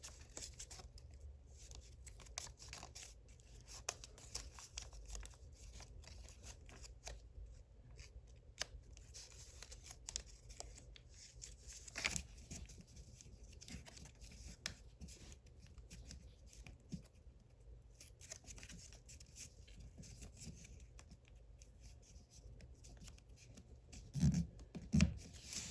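Origami paper being folded into small tabs, faint soft crinkles and light creasing taps scattered over a quiet background, with a few slightly louder rustles near the end.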